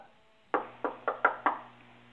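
Five sharp knocks on a door in a quick, slightly uneven rhythm, close and clear, each ringing briefly before the next, with no voices.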